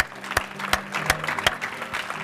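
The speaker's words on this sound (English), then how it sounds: "Let's give the Lord a hand clap as we close." A church congregation claps at the close of a service, several sharp, loud, evenly spaced claps over a soft crowd murmur.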